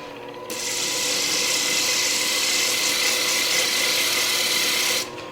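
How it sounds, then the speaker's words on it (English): A sanding stick, a piece of wood with a used sanding belt glued to it, is pressed against a segmented wooden yarn bowl spinning on the lathe, giving a loud, steady, close rasping hiss that runs unbroken for about four and a half seconds. "I've got this sanding stick, so it's really just a piece of wood with a used sanding belt stuck to it"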